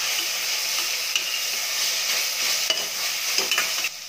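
Ginger garlic paste frying in a pan and stirred for tomato biryani, a steady close sizzle and hiss with scraping stir strokes and a few soft knocks, no talking.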